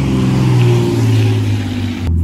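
A manual-transmission car engine just after starting, idling with a loud, steady low hum and rumble close by, then cutting off abruptly near the end.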